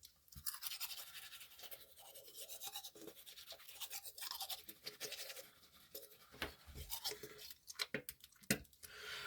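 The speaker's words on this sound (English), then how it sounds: "I did not intend to brush my teeth on this stream." Teeth being brushed with a toothbrush, close and steady scrubbing strokes in irregular bursts, alone without talk.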